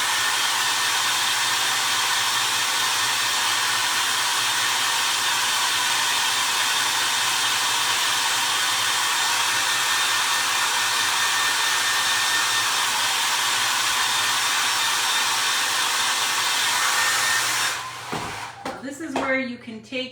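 A hair dryer blows steadily and loudly at close range, drying the bottoms of a handmade vintage Valentine snow boy craft figure, running alone for most of the time before switching off with a brief clatter at the end.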